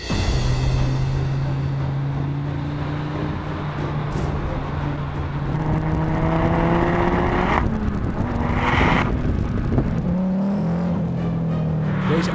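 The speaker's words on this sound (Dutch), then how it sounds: "De auto maakt zo'n wild geluid, daar is zelfs de beste apparatuur dus niet op berekend." A Donkervoort D8 GTO sports car is driven hard on the road, its engine note rising and falling through gear changes with loud revving, a sharp shift around the end and faint tire noise, up close and without speech.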